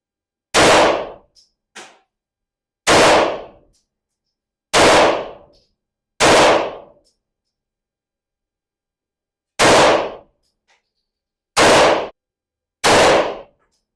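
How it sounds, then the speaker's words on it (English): Gunshots fired down range while testing a budget reflex red dot sight: seven loud, sharp reports spaced one to three seconds apart, each with a short decaying tail and a faint echo, no talking. "Put a few more shots down range."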